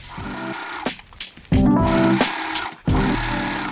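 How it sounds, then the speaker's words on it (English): An overlocker serging the tier seams of a dress runs in bursts of fast, loud mechanical whirring, stopping and restarting several times close up. "Then to finish off the dress, I serge the tier seams, or you can zigzag if you don't have an overlocker"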